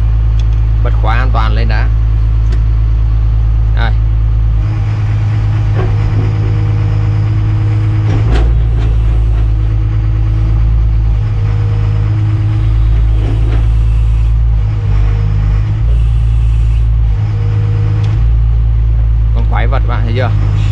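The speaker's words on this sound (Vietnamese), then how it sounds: "bạn nghe tiếng động cơ con động cơ DL08 nhé" The DL08 diesel engine of a 2010 Doosan DX300LCA excavator runs at a heavy, steady low rumble close by, with someone talking over it throughout.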